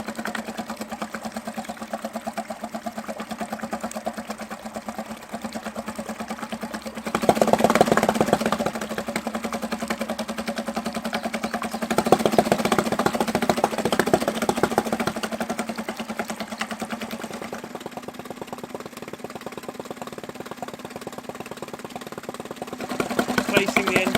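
A small outboard boat engine runs steadily with a buzzing, sewing-machine-like drone, rising in loudness a few times as the throttle changes, close by throughout.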